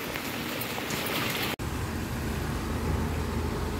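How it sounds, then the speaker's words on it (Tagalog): Steady rain falls outside a dorm during an extended rainy spell, a constant broadband hiss with faint traffic beneath and a brief dropout partway through. "Maulan pa rin."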